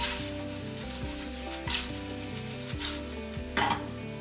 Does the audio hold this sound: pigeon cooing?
no